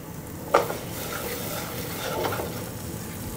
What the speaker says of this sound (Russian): Пока это все жарится,